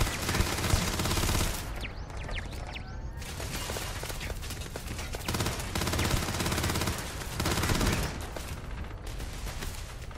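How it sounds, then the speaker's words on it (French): Enemy turret in the Starfield video game firing in sustained bursts of rapid gunfire, loud and dense throughout, with brief lulls between volleys and no talk. "Ça c'est la tourelle qui casse les couilles aussi."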